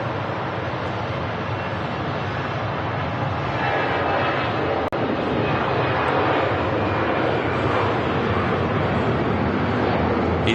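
An easyJet Airbus A320 takes off down the runway, its jet engines roaring in a constant, loud, broadband rumble for the whole stretch, with a single brief click midway.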